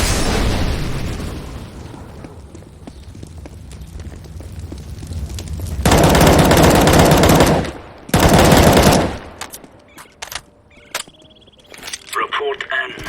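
Machine gun fire in a video game: dense rapid bursts and bangs, with two long loud sustained volleys in the middle, then scattered single shots and pops near the end.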